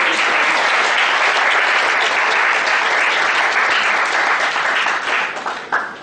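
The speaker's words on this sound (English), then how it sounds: "Big round of applause." A seminar audience applauds steadily for several seconds, dense and loud throughout, thinning slightly toward the end.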